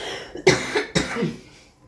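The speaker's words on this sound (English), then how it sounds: "Excuse me, I have to cough." Two sharp, close coughs in quick succession, followed by a short throat-clearing rasp that fades out.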